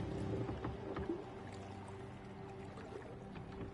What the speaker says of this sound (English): Why is she the only one paddling?